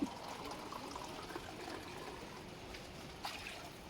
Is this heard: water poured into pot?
yes